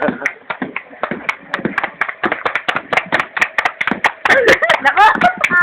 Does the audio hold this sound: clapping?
yes